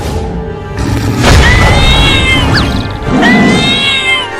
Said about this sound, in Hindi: उन बिल्लियों की माँ उस शेर से लड़ गई है अपने बच्चों को बचाने के लिए।